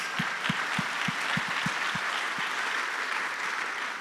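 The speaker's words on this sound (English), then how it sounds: "So a round of applause for our emerging companies." An audience at a startup competition finals in Virginia applauds the emerging companies, a steady, moderately distant wash of clapping with a few sharper claps standing out near the start.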